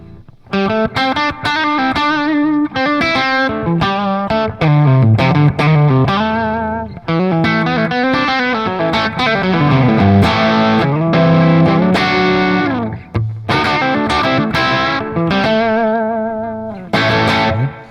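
A distorted electric guitar plays chords and single-note phrases through the clean channel of a REVV D40 Dynamis amp pushed gritty, with reverb trailing each note; loud and continuous, no voices.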